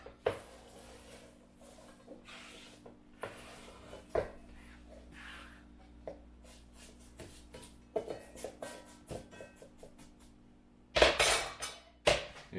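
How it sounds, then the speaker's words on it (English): Chopped vegetables are scraped off a board into a cooking pot, making scattered close knocks and scrapes, with a louder burst of clatter near the end. "And then we just scrape it right into the pot here."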